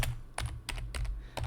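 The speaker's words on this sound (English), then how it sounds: "you want to just type in Sniper Alley" Keys clatter on a computer keyboard, a handful of quick close clicks in an uneven rhythm over a low hum.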